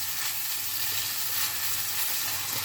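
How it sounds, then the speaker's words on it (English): Onions and sausages sizzling in a pan over lowered heat, a steady, dense frying hiss that holds evenly throughout without pause. "What we want to do is for the onions to sweat."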